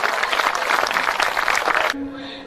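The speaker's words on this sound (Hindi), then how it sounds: "एक बार जोरदार तालियां बजाकर बताइए कि आप मुझे सुन रहे हैं" An audience at a Hindi comic poetry gathering claps in a dense, loud burst of applause that lasts about two seconds and then cuts off abruptly, leaving a faint tone behind.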